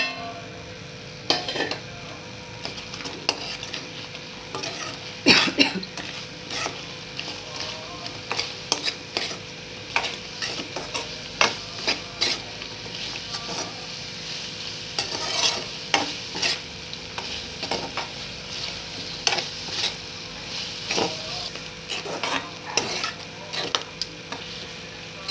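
Chicken pieces stirred into sauce for chicken Manchurian, a spoon scraping and clinking against the pan amid a steady sizzle, in repeated irregular strokes at close range with no talking.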